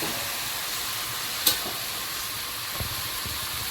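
Food frying in a pan over a wood fire, a steady soft sizzle and hiss at moderate distance with one brief sharp crackle and a few faint knocks.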